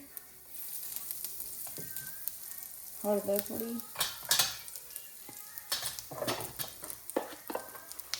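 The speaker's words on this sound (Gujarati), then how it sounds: "તેલ ગરમ થઈ ગયું એટલે એમાં ખાલી એકલા જીરાથી વઘાર કરીશું" Cumin seeds tempering in hot oil for a vegetable dish, a light sizzle and crackle joined by spoon stirring and pot clatter. Someone talks over the cooking, and the sound swells in bursts as spices are added.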